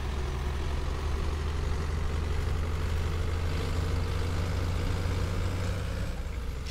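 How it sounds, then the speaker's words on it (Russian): A PAZ-4234 bus's diesel engine running in the Omsi 2 driving simulator, a steady low rumbling drone with an even hum throughout, close and constant with no voices. "Несмотря на то, что двигатель дизельный, крутится довольно-таки очень неплохо."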